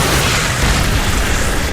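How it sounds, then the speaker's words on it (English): StarCraft II siege tanks firing in a match, a dense, continuous roar of booming explosions and blasts layered together, loud and sustained for under two seconds with no talk. "But SC, he has these siege tanks, man."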